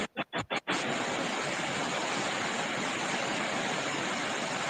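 An electric fan runs in a room as a steady, even whoosh of broadband noise, briefly broken by a few quick dropouts at the start before settling into a constant hum.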